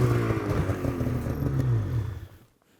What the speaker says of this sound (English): now blipping the throttle